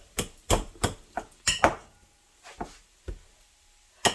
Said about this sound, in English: they would have just mashed them up by hand like I am